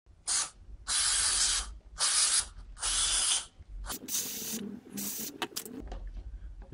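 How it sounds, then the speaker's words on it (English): Four short hissing bursts of carburetor cleaner sprayed onto a dirty throttle valve in quick succession, followed by clattering handling noises and a few softer sprays. "will spray it on the dirty parts of the throttle"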